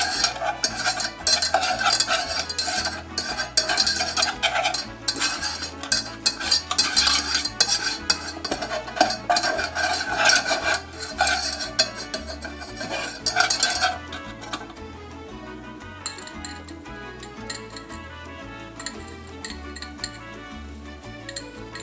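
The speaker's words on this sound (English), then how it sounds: "I'm just gonna whisk that around" A whisk beats a butter mixture for a burrito supreme, rapid metallic clattering against a bowl in dense bursts for about fourteen seconds, then fading to quieter, sparser taps over a steady tonal background hum.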